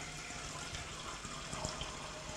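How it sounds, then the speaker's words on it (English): Water runs steadily and softly into a small pan for sauce, a faint continuous splashing pour heard alone. "put probably about a cup of water in there"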